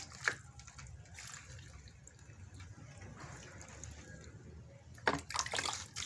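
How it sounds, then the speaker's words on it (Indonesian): Water poured from a can or hose onto potted grape seedlings, soaking them with a vitamin B1 mix; a steady low splashing runs throughout, with sharper gushes near the start and toward the end. "Kalau vitamin B1 pertanian kita campur dengan air, kemudian kita siramkan, siram jenuh saja"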